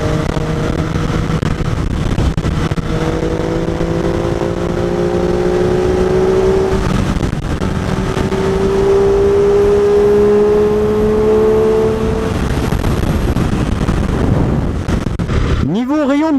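An MV Agusta F3 sport motorcycle rides at speed, its engine tone rising steadily through the gears with quick quickshifter changes, wind rushing loudly over the microphone throughout and a brief sharp rev near the end.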